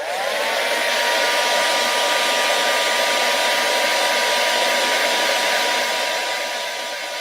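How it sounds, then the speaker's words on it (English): A hairdryer blows steadily and loudly for about seven seconds, warming a glued piece of a Zoidberg prototype so it can be peeled off, with a constant airy roar and a faint motor whine throughout. "you can actually hit anything that's glued with a hairdryer and you can actually kind of peel it off."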